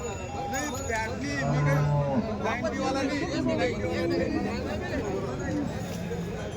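Cows tethered at a busy cattle market in Chalisgaon, with steady crowd chatter and voices throughout and occasional animal sounds faint beneath the babble.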